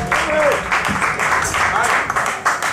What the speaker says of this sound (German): einen dicken Applaus für den jungen Manni